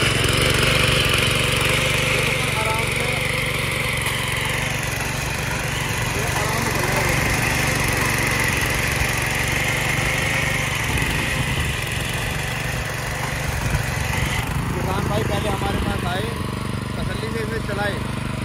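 A power tiller engine runs steadily at close range, a continuous throbbing mechanical drone that holds through the whole stretch with a slight shift near the end.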